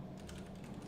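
Typing on a computer keyboard while coding software for a ROS2 robot, a steady run of dense, close key clicks filling the whole second with no talk.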